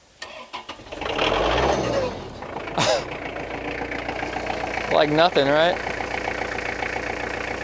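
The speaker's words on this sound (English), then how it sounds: "Dad's going to do the cold start. See how she starts up in the cold." A tractor is started cold: the starter turns over, the engine catches and settles into a steady rumbling idle, close and loud, while a person speaks briefly over it.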